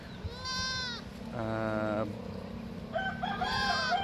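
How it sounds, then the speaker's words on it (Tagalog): Goats bleat loudly nearby, several wavering calls one after another, with an outdoor hum in the background. "nagpakawala tayo ng mga alaga nating mga kambing"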